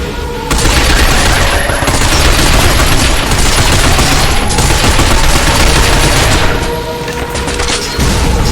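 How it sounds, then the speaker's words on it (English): Loud, sustained automatic gunfire blasts at robot enemies' legs in the third-person shooter Binary Domain, a dense, continuous fusillade with booming impacts filling the whole stretch and only brief dips. "Stop them by shooting their legs."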